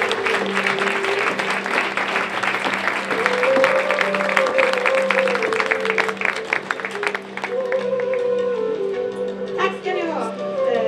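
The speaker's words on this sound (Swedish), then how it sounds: "Ge mig en varm applåd för kvällens konferensier, Marita Nilsson!" A warm round of applause fills a catwalk event for Varberg businesswomen, loud and sustained clapping from an indoor audience, with a voice speaking over it as it tapers off.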